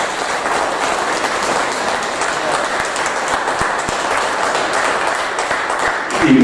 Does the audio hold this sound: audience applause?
yes